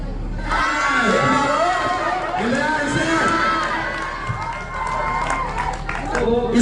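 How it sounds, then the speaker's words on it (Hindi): A crowd at a girls' school Mother's Day celebration claps and cheers, children's voices shouting and talking loudly throughout amid scattered applause. "तो एक बार आदर्श सर के लिए भी जोरदार तालियां हो जाए।"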